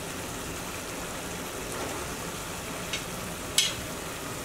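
Hilsa fish frying in a pan, a steady soft sizzle and crackle throughout, with a sharp spatter pop near the end.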